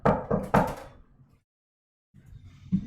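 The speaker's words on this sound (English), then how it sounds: "As you awake, you hear a knock on the door." Three firm knocks on a wooden door come close and loud, followed by a silent pause and then faint low rustling.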